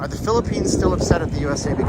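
Wind buffets the microphone with steady low rumbling and gusts while a person talks over it on the Las Vegas Strip at night.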